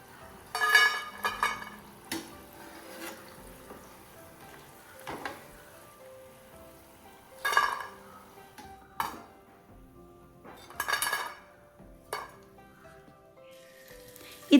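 Metal utensils clink and scrape against a pan as a crisp rice flour snack is scooped out of hot frying oil, with several sharp clatters spread out over a soft, steady sizzle.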